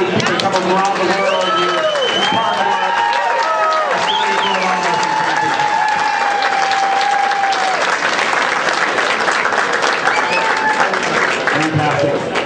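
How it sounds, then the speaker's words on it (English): An arena crowd at a world arm wrestling championship in Canada applauds steadily and loudly, with cheers and shouts mixed in and voices talking over the continuous clapping throughout. "Give these guys a round of applause."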